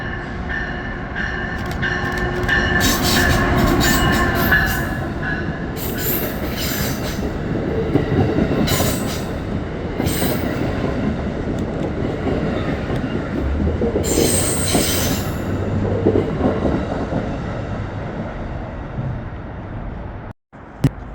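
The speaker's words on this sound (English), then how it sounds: "The next train to pass by New Rochelle would be Amtrak 54, the northbound Vermonter, heading to St. Albans, Vermont, with a solo ACS 64 on the point." Amtrak's northbound Vermonter, bound for St. Albans, Vermont, with a single ACS-64 electric locomotive leading, rolls through New Rochelle station in a loud, sustained passage of rumbling wheels, rail noise and intermittent squeals, with no talk.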